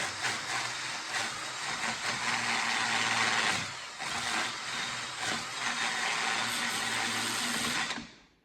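A die grinder fitted with a scrubbing pad cleaning metal on a 2003 Dodge Caravan's front strut area, a loud, continuous whirring grind that dips briefly and rises again, then cuts off at the end, with no voices.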